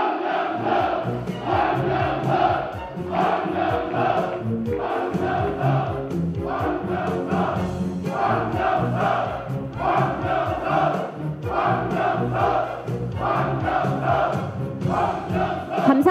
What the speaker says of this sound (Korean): 응원의 박수 다시 한번 부탁드립니다.